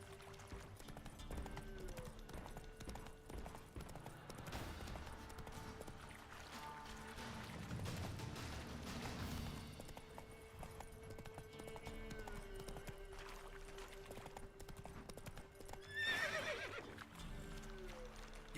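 Horse hooves clip-clopping at a run with a whinny in The Witcher video game, set against background game music and ambience, with a louder burst near the end.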